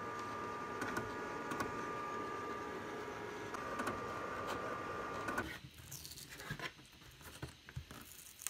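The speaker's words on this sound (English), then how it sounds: "So let's get these sent over to the cutter, cut this, weed this, and get this mug made." A vinyl cutter slices glitter heat transfer vinyl for a custom coffee mug, giving a steady, close mechanical whir with faint tones and ticks, then a choppier patter of shuffling clicks near the end.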